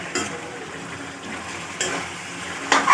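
Chicken frying in a pan is stirred with a utensil, giving a quiet, close sizzle broken by a few brief clinks and scrapes against the pan.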